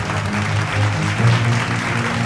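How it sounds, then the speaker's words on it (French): Crowd applause at a fashion show in a café, greeting the models, a dense, steady wash of clapping that stays loud and even throughout. "un tonnerre d'applaudissements pour tous les mannequins."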